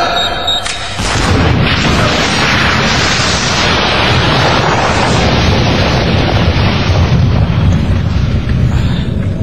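A planted charge goes off with a sudden heavy boom after a brief quieter moment, then a sustained loud roar and rumble carries on to the end, with no talking.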